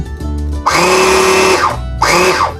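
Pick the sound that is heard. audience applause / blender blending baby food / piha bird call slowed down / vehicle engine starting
blender blending baby food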